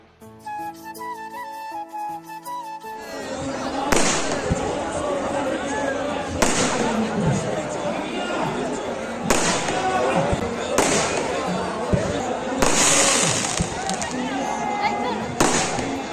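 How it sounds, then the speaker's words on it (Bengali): New Year fireworks burst after midnight in a series of sharp, echoing bangs, some near and loud and others more distant, over a constant crackle and hum of background noise. "12টার পর থেকেই বাজি ফাটানো শুরু হয়ে গেছে"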